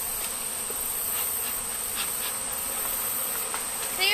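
Bees buzzing around a hive being checked, a dense continuous drone heard close and steady throughout, with no talk.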